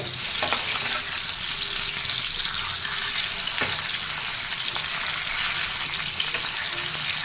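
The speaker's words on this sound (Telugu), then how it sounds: "ఈ వేపిని కూడా కొద్దిసేపు ఇలా వేగించాలి" Fish pieces fry in a pan of hot oil, giving a steady, dense sizzle with no pauses, loud and close, broken now and then by faint clicks of stirring.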